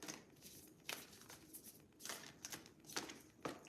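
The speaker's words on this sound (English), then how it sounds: "Mayhem, you're going to be really annoyed by all this shuffling." Tarot cards being shuffled by hand, quiet riffling bursts and soft slaps repeating unevenly at close range, with no talking.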